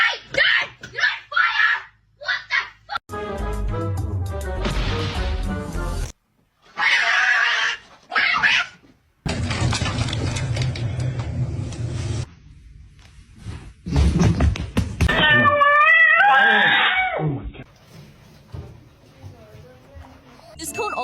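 A cat with a post-surgery cone yowls and caterwauls in drawn-out, rising wails, loud and close, broken by short pauses and some bursts of noise, with no talk over it.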